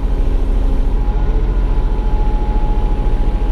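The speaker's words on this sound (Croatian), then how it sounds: "motor je još hladan i pumpa hidraulike je hladna isto" A cold mini excavator's engine and hydraulic pump run at a steady idle, giving a loud, close, continuous low rumble with a faint even pulse and no voices.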